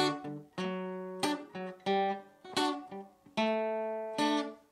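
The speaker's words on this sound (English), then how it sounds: "Altogether, this makes up 4 boom chick chords that kind of sound like this." Guitar playing four boom-chick chord patterns over a 1-3-4-5 bass line, with a bass note followed by a strummed chord in a steady alternating rhythm, clear and close with no talking.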